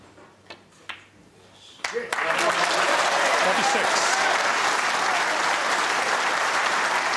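Snooker crowd at the 2014 World Championship, Perry versus O'Sullivan, breaking into loud sustained applause after a few scattered early claps.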